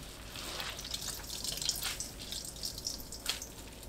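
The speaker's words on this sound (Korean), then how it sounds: "40초 데치고 바로 찬물에 헹궈주세요. 물 짜서 준비합니다." Blanched chamnamul greens rinsed in cold water at a kitchen sink, with close splashing and dripping in irregular bursts over a faint running-water background.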